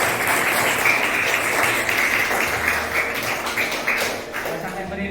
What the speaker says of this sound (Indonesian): Nah, ini tepuk tangan untuk teman-teman.